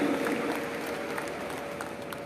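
Audience applause at a National Women's Parliament inauguration in Goa, a dense crowd clapping that starts full and slowly thins and fades.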